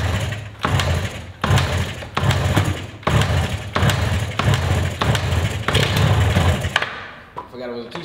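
A 1972 Yamaha DS7 two-stroke motorcycle engine running roughly, revving in repeated loud bursts with short gaps between them, then cutting out near the end, close to the microphone.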